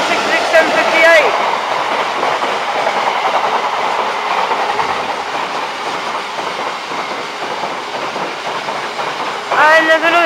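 A pair of Class 66 diesel freight locomotives passes through Newark North Gate station, with a loud, steady rumble and rhythmic clickety-clack of wagon wheels throughout and brief squeals at the start and end.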